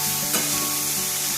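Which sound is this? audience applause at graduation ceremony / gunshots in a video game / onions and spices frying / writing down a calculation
onions and spices frying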